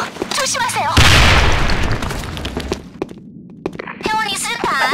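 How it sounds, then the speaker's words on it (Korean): A grenade goes off in the Sudden Attack shooter game, a loud burst with a rumbling tail, surrounded by scattered gunshots and excited voices calling out over the fight. "수류탄 투척! 조심하세요!"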